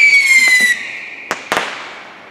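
Fireworks bursting over a lake up north: a loud whistling rise fades into several sharp cracks and booms, with a long rumbling echo trailing across the water.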